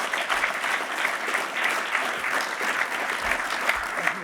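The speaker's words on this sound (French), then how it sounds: "On peut l'applaudir, s'il vous plaît." Audience applause at an awards ceremony featuring a breakdance demonstration, a dense steady clatter of many hands clapping for the full stretch, fairly loud with a few low thumps.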